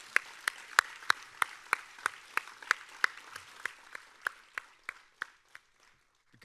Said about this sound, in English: I believe that they all deserve such a round of applause